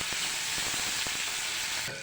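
Potato pieces frying in hot oil in a home kitchen, a continuous close sizzle with bubbling crackle and a few sharper pops, fairly loud and without talk.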